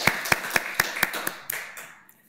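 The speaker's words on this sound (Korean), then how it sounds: "한번 박수에 환영해 주시면 고맙겠습니다" Church congregation clapping in welcome of a visiting member during a Sunday Lent service: a short run of sharp, evenly spaced claps, fairly close, thinning and fading out after about two seconds with no talk over it.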